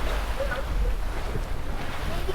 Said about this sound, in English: we are literally sailing off into the sunset